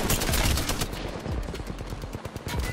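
Rapid bursts of automatic gunfire from Apex Legends arena mode crackle continuously, sharp and loud, with dense repeated shots and no speech.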